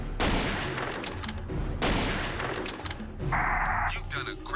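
Sniper rifle shots in the Jurassic Park Hunter Legends video game, heavy cracking reports arriving in two dense bursts at the start and near two seconds over a loud, busy game soundscape with a bright tone near the end.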